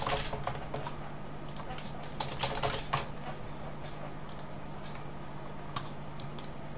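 Keystrokes on a computer keyboard as a password is typed during a PCLinuxOS Linux install, a quick irregular run of clicks over a steady low hum, close and fairly quiet.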